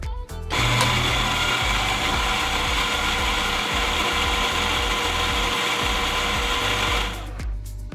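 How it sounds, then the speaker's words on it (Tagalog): A Breville Smart Grinder Pro grinds coffee beans: a loud, steady mechanical whir and rattle that runs for about seven seconds before winding down, with no talk. "Next, ilagay sa grinder. Grind consistency parang asukal."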